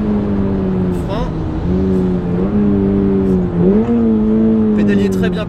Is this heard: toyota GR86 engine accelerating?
yes